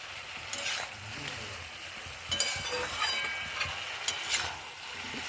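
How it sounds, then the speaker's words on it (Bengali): Potato, carrot and beetroot fry dry in a pan with a soft crackle and scraping from stirring, with a few louder scrapes and clatters over a low, steady sizzle. "ভাজবো একটা সেন্ট উঠবে আর কালারটাও আসবে"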